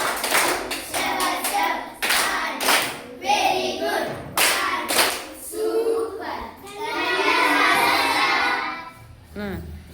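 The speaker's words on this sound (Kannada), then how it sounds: "ಶಬಾಷ್ ಚಪ್ಪಾಳೆ ಮೂಲಕ ನೀವೆಲ್ಲ ಧನ್ಯವಾದ ಹೇಳಿ ಮಕ್ಕಳೇ" Schoolchildren in a fifth-grade classroom clapping in thanks, with bursts of hand claps that start and stop, some scattered and others in unison, alongside children's voices and a longer, denser clapping stretch near the end.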